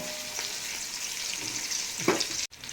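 Whole spices roasting in a pan for mutton dum biryani, giving a steady close sizzle with a few brief stirring scrapes and a sharp clink near the end, no voices.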